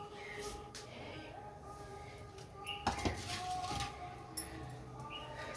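A wok is set down on a home kitchen stove while pots and pans clink, with a few sharp metallic knocks standing out over a steady low background hum.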